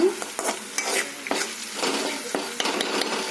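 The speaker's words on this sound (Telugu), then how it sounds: "ఇందులో అల్లం వెల్లుల్లి పేస్ట్ వేసుకొని కలుపుకున్నారు" Ginger garlic paste is stirred and fried in a pan, a close, loud sizzle broken by repeated scraping strokes of a spoon against the metal.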